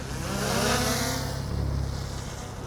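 A steady motor whine and broadband wind-like rush, swelling slightly then holding, as a small drone lifts off nearby in slightly windy weather in Harlow, Essex; no voices.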